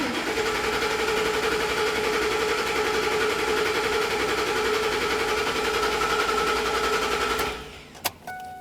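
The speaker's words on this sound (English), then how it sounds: "Crank the engine." A 2009-2014 Ford F-150 engine cranks on the starter during a fuel injector replacement, giving a steady, loud, rapid churning whir that runs close and continuous before cutting off with a few sharp clicks near the end.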